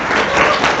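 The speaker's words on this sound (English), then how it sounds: "I think we can give all 8 speakers another round of applause" Audience applause after a speech at a university debating quarter-final, a short dense burst of loud clapping throughout.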